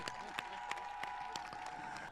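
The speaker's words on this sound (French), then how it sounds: "Applaudissez-la, s'il vous plaît." Scattered audience clapping at a village renaissance festival celebration, distinct individual claps at an irregular rhythm, faint and distant against a background hum.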